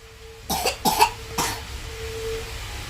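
A person coughs three times in quick succession, close and fairly loud, followed by a quiet room tone with a faint steady hum.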